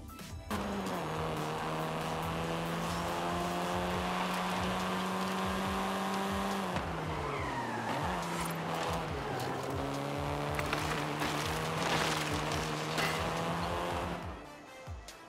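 A seventh-generation Volkswagen Golf, a model first introduced in 2012, drives in Forza Horizon 5. Its engine holds a steady drone, dips and rises through a gear change midway, then climbs again. A brief tire squeal cuts in near the end, with no talking.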